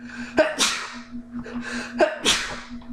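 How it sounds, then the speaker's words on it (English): Two sharp sneezes burst out a couple of seconds apart, close and loud, each with a quick intake of breath, over a steady electrical hum. "Sorry about the sneeze there."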